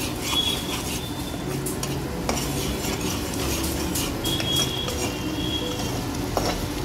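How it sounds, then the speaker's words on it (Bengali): Meat with chili powder and salt stir-fried in a pot while making mutton biryani: a continuous sizzle broken by repeated scraping and clanking of a spatula against the pan. "কষিয়ে নেবো ভালো করে"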